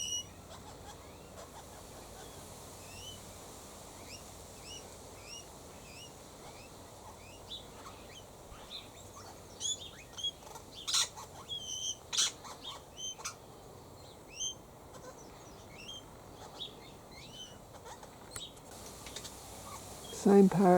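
A king parrot gives repeated short chirping calls over quiet outdoor ambience, with a burst of louder notes in the middle and a thump at the end.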